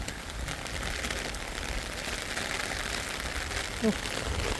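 Heavy rain in the Czech Republic falls in a steady, dense hiss on surfaces nearby, with a voice talking over it.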